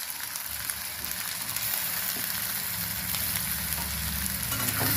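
Onion and potato pieces frying in a pan of oil, a dense, continuous close sizzle with faint stirring scrapes underneath, steady throughout.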